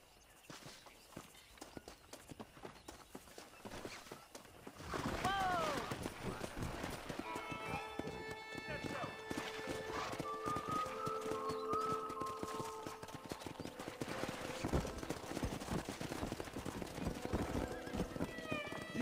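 Horses whinny and hooves clop along in Red Dead Redemption 2, with layered music and ambient sound building after a quieter start.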